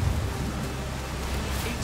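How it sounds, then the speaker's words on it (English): A rainstorm in the video game A Plague Tale: Requiem gives a dense, steady hiss of heavy rain that fills the whole moment without a break, loud and close, with no voices. "The rain is getting worse. It's just a storm."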